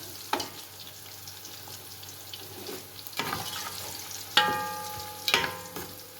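Sliced onions fry in a pan for chicken pulao, giving a soft steady sizzle broken by a few clattering stirs and utensil knocks, with no voices.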